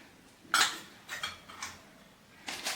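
A lid goes onto a bowl of rice flour dough for ukadiche modak, making a few faint, light clinks and taps, one sharper contact followed by softer knocks.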